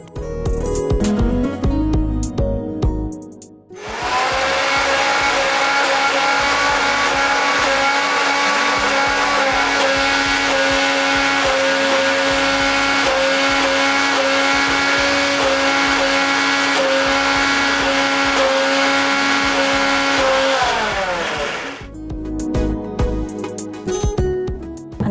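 A kitchen mixer grinder churns sweet holige filling in one loud, continuous whine that holds steady for about eighteen seconds, starting and stopping abruptly, with clattering handling noises before and after.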